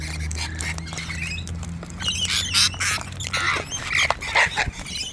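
Wild Australian birds squawking harshly as they are hand fed, a string of loud, close, raspy calls that grow busier and overlap toward the end over a low background hum.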